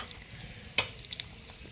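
Eggs fry in a pan with a soft, low sizzle, broken by a brief sharp scrape of a utensil against the pan.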